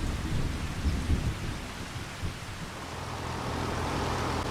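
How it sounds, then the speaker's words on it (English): Steady rain pours with low, rolling thunder in Farming Simulator 25 on PS5, a continuous dense hiss under deep rumbles, with no talking. "And the rain just started"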